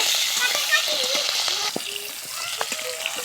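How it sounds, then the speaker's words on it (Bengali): Jatka fish fries in hot oil in a home kitchen, a continuous hissing sizzle heard under a person talking. "মাছ ভাজাটা আমাদের হয়ে গেছে"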